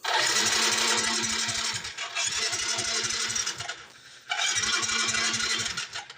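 A motorcycle engine with a starter fault is pull-started and cranks in loud, rhythmic mechanical bursts. It stops briefly in the middle and then starts churning again.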